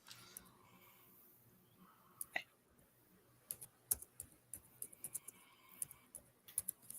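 Computer keyboard typing in rapid irregular bursts of clicks, fairly close, with a quiet room hum underneath and no talking.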